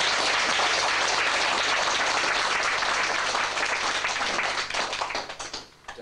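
Audience applause at a spiritualist tutorial demonstration in Aberdeen, loud and steady for several seconds, then thinning into scattered claps as it fades out near the end.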